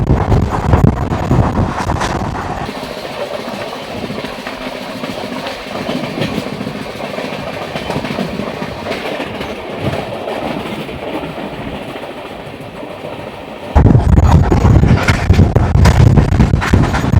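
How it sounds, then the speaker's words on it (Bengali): The 22974 Puri Gandhidham weekly SF Express running at speed, steady rolling rumble and clickety-clack of wheels with wind buffeting the microphone, turning suddenly louder and harsher near the end. "পুরী থেকে 169 কিলোমিটার পথ পেরিয়ে আমাদের ট্রেন এসে"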